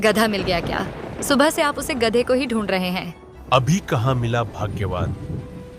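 Heavy rain and rolling thunder during a downpour outside a washerman's house, a steady low rumble running beneath close conversation between a man and a woman.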